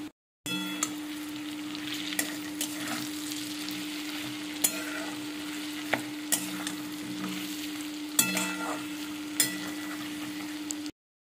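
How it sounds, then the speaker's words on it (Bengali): Potato and pumpkin pieces frying with spices in a pan, a steady close sizzle broken by regular scraping and clinking stirs, with a constant low hum running underneath. "মশলাগুলোর সাথে আলু আর কুমড়োটাকে খুব ভালো করে প্রথমে ভেজে নিতে হবে"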